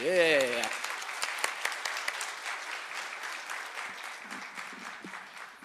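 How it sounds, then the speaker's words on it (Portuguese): An audience applauds steadily after a short spoken voice at the start, the clapping sustained and even, fading slightly toward the end. "Aplauso novamente."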